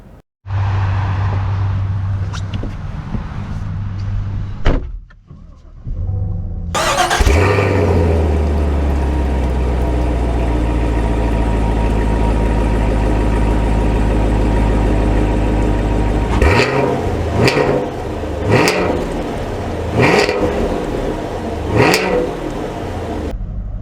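A 2024 Chevy Camaro LT1 with its V8 and 10-speed starts with a steady idle, then a sharp start-up roar settles into a loud, sustained drone, broken by several quick rev blips near the end.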